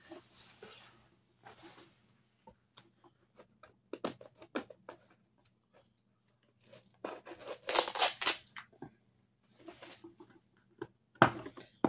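A taped-up gift package from a fall seed swap is pried open: bursts of crinkling and tearing come in short, close bursts separated by pauses, building to a louder ripping flurry midway and a sharp tear near the end.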